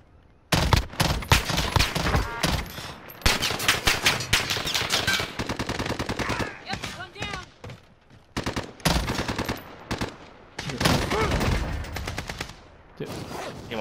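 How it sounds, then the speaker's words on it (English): Rapid bursts of video game gunfire from a burst rifle and other players' weapons, loud clustered volleys separated by short gaps, close and dominant with no talk. "are these people shooting at me?"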